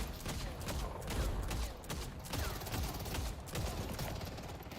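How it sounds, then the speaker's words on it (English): Rapid bursts of gunfire hammer away at a tower in a competitive online shooter match, loud and repeated in uneven volleys, with game sounds filling the background. "I'm just gonna shoot this tower a bunch."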